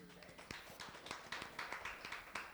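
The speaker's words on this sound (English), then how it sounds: "Round of applause" A panel-session audience at an International Women's Day event gives a faint, thin round of scattered clapping with irregular individual claps.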